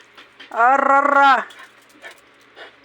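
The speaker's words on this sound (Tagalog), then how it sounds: "Ang asong budlag." A dog lets out a drawn-out, high whimpering whine followed by softer yips, close by, with people talking around it.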